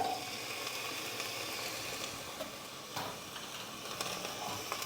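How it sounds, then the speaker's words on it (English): Chickpeas hitting a pan of sautéed garlic set off a steady, close sizzle of frying that holds evenly throughout, with faint crackles scattered through it. "So I've sauteed my garlic. I'm gonna add my chickpeas."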